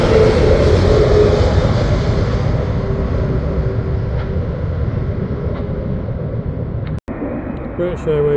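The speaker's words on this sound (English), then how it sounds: "British Airways Boeing 787-10 Dreamliner." British Airways Boeing 787-10 Dreamliner landing at Heathrow, a low rumbling engine drone that slowly fades, with a brief dropout near the end.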